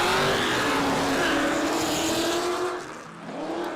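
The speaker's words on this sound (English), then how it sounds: "I'll say these are all LS-powered cars, Ben." Loud LS V8-powered drift cars roar past at a drift exhibition, engines droning and revving together in tandem runs, then fading briefly before picking up again.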